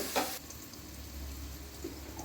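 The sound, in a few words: onion and coconut frying in a pan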